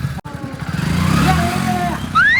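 A motorbike engine idles and revs up close, its low rumble running steadily while people talk over it and a brief rising whine comes near the end.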